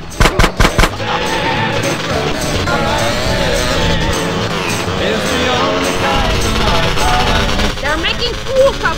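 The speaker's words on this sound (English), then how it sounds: "Stop shooting that thing right next to my ear!" Rapid bursts of gunfire crack close by in GTA: San Andreas, with sharp repeated shots at the start and end framing a stretch of loud shouting voices over chaotic background noise.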